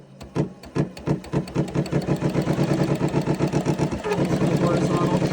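A Janome sewing machine stitches horizontal cutwork on a patch with a red-tipped cutting needle, a rapid, steady mechanical chatter that starts up and holds an even motor-driven rhythm throughout, close and fairly loud.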